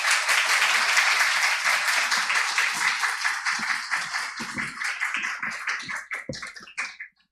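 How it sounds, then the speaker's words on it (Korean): A church congregation at Sunday worship breaks into sustained applause to welcome a visiting pastor, a dense, loud wash of clapping that holds steady, then thins into scattered claps and stops near the end. "우리 더원 사랑의 교회 따뜻한 마음을 담아 우리 목사님을 박수로 환영하도록 하겠습니다"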